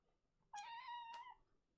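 A single cat gives one drawn-out meow at moderate volume, rising and holding steady before a brief second burst, over a quiet indoor background with no talking.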